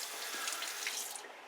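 Hot water runs steadily from a tap into a sink while someone preps to shave, a continuous close splashing hiss.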